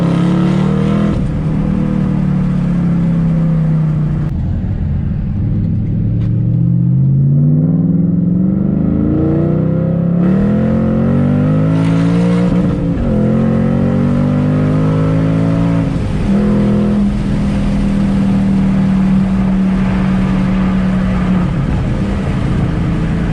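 A Shelby GT500's engine revs hard and repeatedly climbs toward the rev limiter, loud and close. The deep roar rises and falls in sweeping pulls and holds steady near the top.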